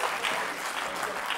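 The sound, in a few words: audience applauding hypnotised volunteers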